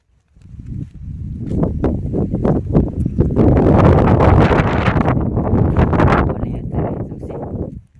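Strong evening wind sweeps across an open stone quarry, a loud, steady roar buffeting the microphone for about seven seconds.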